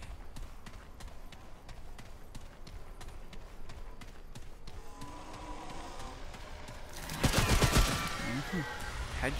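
A run of sharp shots rings out in Remnant, evenly spaced cracks over quiet ambience, followed by a louder burst of impacts and combat noise near the end; no speech is heard.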